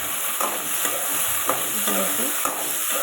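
Three tomatoes hit sautéed onion and garlic in a pan for fish curry, a loud steady sizzle broken by a few quick stirring scrapes and clinks.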